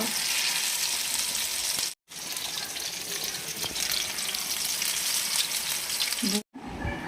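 Sardines frying in a pan, Mangalorean home cooking, a dense steady sizzle broken by two short moments of silence, close and without speech.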